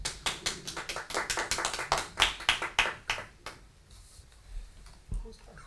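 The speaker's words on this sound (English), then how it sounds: "I was clapping" Clapping at a township council meeting: one person's hands striking in a quick, uneven run of sharp claps, close and distinct, that stops partway and leaves a quieter room with faint shuffles.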